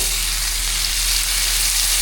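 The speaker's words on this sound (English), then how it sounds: "Listen for that sizzle." Lamb chops sear in a hot pan with a loud, continuous sizzle and crackle, close up and steady, with no voices over it.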